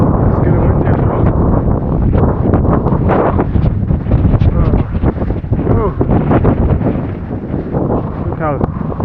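Strong wind buffeting the microphone on snowy Bogd Khan Mountain in Mongolia during a winter hike, a loud continuous roar with gusty surges throughout.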